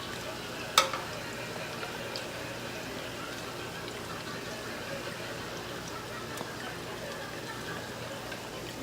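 Beignets fry in hot oil while being flipped and basted, a steady low sizzle running throughout with one sharp clatter near the start and a faint tap later.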